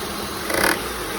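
A Honda CR-V engine idles with a steady hum, then briefly revs up and settles back, a whining belt tensioner noise running throughout.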